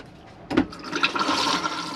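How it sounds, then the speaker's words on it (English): A pressurised water flush in the toilet of an Adria Twin 600SPB Supreme caravan, fed by a pump: a sudden rush of water bursts out, then settles into steady running water with no voices. "press the blue button at the back, which will give you a flush"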